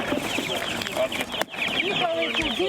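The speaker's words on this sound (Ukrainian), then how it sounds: "Цеплят вивезли." Chicks being evacuated with residents cheep in a dense, continuous chorus of high peeping with clucking hens and murmuring voices mixed in close by.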